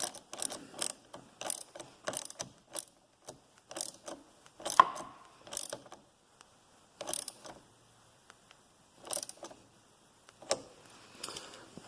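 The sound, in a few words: tightening 10 millimeter nut on VW Golf battery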